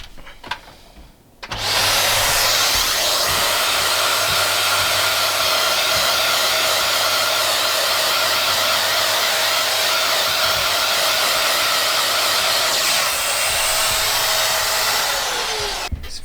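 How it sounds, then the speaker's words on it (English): A vacuum cleaner sucking up drilling debris from a model railway layout, a loud steady close roar running unbroken for about fifteen seconds with no talk. "Just hoover that up."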